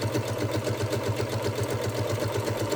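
Close and loud, a sewing machine runs a zigzag satin stitch with a fast, even pulsing whir and regular needle beats that continue without pause and with no voices.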